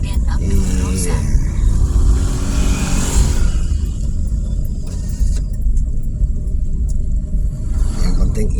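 Heavy road traffic near a toll road in Kalidoni, Palembang, with a continuous low rumble of many passing cars and motorbikes and voices talking over it.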